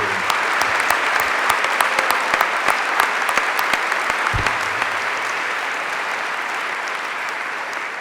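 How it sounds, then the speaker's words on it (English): A keynote audience at a 2018 world summit in Austria breaks into loud, continuous applause, with individual sharp claps standing out at close range over the dense crowd sound. Brief speech fragments surface here and there. "let's give them another round of applause for the great work"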